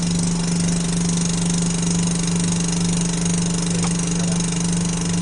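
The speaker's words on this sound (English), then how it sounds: "now we switch on the vacuum pump" A laboratory vacuum pump pulls air from above a mercury column in a physics demonstration, giving a loud, constant droning hum with a strong low tone that runs unbroken and close, with no talking.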